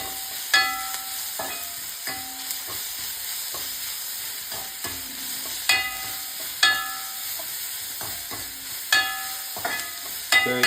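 Food sautés in a hot pan with a steady sizzle, while a utensil scrapes and knocks against the pan in irregular strokes every second or so, close and fairly loud, with no talking.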